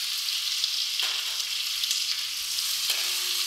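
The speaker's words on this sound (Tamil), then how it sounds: "கொஞ்சம் வதக்கி விட்ருங்க லேசாக கலர் சேஞ்ச் ஆகிற வரைக்கும் வதக்கி விட்ருங்க" Onions sautéing in oil with tempering spices for tomato rice give a continuous close, bright sizzle with a few soft stirring sounds, no talking.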